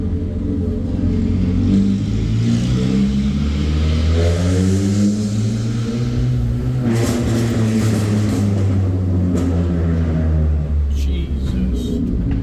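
Peugeot 106 1.1i with a straight-pipe exhaust revs loudly and close, its small engine rising and falling in a harsh, rumbling drone that fills the whole stretch.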